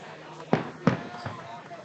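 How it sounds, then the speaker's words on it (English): Fireworks going off across a city on the Fourth of July in Rapid City, three sharp booming pops spaced about a third of a second apart, heard fairly close over a low background hum. "The fireworks are going off all over the city."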